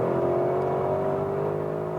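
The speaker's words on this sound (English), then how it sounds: "That titanium exhaust is really getting louder." A Porsche Cayenne Turbo GT with a titanium exhaust accelerates hard on a racetrack, giving a close, steady rising engine tone that is loud and sustained for a couple of seconds.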